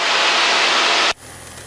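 A small airplane's engine drones loud and steady inside the cockpit during a discovery flight lesson, then drops off abruptly to a quieter hum near the end.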